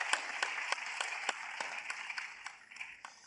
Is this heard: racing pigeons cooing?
no